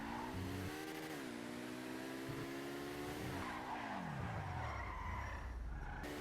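Overflod Imorgon electric supercar from GTA Online driving continuously, with a steady rising and falling motor whine and harmonic revving sweeps, plus tire skid noise near the end.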